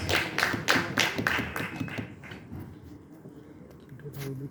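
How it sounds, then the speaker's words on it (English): A small audience at the TATA Crucible quiz at KIIT University gives brief, fairly close applause: quick clapping for about two seconds that thins into a few scattered claps. "I think they deserve an applause."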